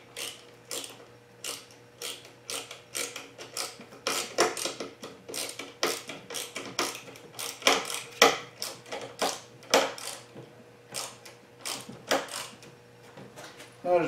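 A small hand driver turns screws in close up, with rapid ratcheting clicks in uneven bursts over a faint steady hum.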